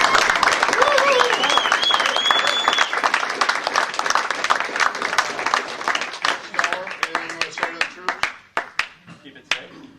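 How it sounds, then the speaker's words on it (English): Audience applause at a workplace safety recognition awards ceremony, dense clapping from a crowd that thins into scattered individual claps toward the end. "Would you please give them a big round of applause for all this?"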